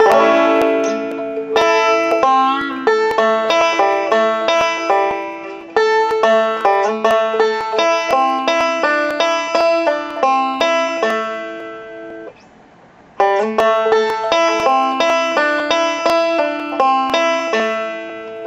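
Bright banjo picking in a steady in-and-out roll combined with thumb-middle and index-middle rolls, quick plucked notes, pausing briefly once before the roll resumes.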